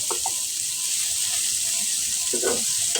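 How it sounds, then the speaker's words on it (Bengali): Koi fish frying in a pan, a steady bright sizzle throughout with a few brief scraping or clinking sounds, close and moderately loud, no voices. "কই ভেজে নিচ্ছি আজকে সকালের জন্য"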